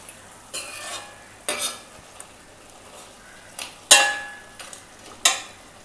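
A spoon stirring boiling crab kurma in a pot, several separate scraping knocks and clinks against the metal over a low bubbling background, close up and without talk.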